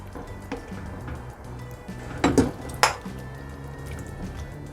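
Tteokguk, Korean rice cake soup with dumplings, being ladled from a pot into a bowl: soft liquid sloshing with a few sharp metallic clinks of ladle against pot and bowl in the middle, no talking.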